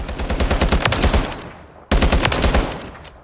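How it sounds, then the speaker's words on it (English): A Scar H rifle is fired on a firing range in Call of Duty: Modern Warfare III, with two loud, close bursts of rapid automatic fire, each over a second long, separated by a brief pause. "So jumping to the firing range here with our Scar H."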